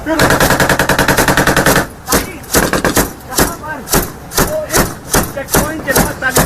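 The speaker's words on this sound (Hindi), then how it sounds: "दिल दहला देने वाली गोलियों की आवाजें सुनाई दे रही हैं" Intense gunfire in a battle between the Afghan army and the Taliban: a rapid machine-gun burst followed by a string of loud, evenly spaced shots, close and sharp.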